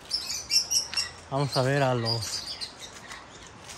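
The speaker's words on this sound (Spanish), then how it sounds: "Acá están los periquitos." High chirps from several parakeets flutter in the background while a person speaks briefly in Spanish in the middle.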